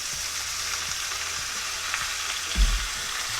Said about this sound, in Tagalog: Now that our beef is a little brown, let's add soy sauce.